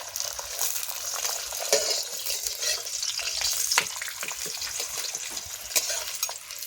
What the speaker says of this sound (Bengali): এই তেলেই আমাদের ভাজা হয়ে যাবে।